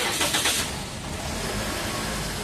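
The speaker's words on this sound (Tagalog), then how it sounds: "papa-start ko itong makina tapos papalagay ko sa drive" A Toyota Altis engine is started, with a brief cranking burst that settles into a steady, moderately loud idle.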